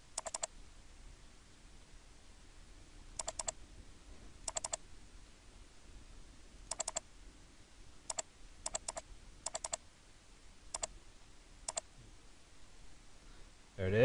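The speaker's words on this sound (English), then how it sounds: "let me right click and say load material" Sharp computer mouse clicks in Rhino software come in short paired and single bursts scattered across a quiet room background.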